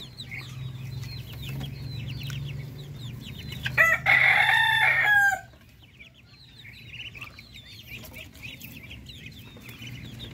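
Two-month-old Darag chickens make a busy flock of clucks and chirps, broken by one loud, strained young rooster crow lasting about a second and a half midway before the quieter clucking resumes.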